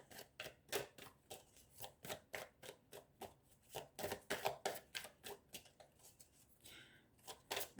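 Tarot cards are shuffled by hand nearby in a steady run of soft riffling and slapping bursts, quiet and rhythmic, with no one speaking.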